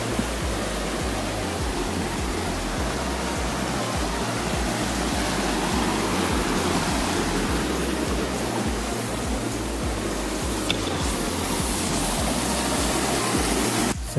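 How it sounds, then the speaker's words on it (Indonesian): Rushing water flows along a mountain hiking trail on Gunung Guntur, like a small river, making a loud, steady broadband roar that continues unbroken with no voices. "Kita melewati jalan air seperti sungai."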